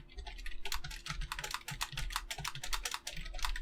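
Rapid touch typing on a computer keyboard during a Mavis Beacon typing test, a dense stream of close, crisp key clicks with a steady low hum underneath and no talking.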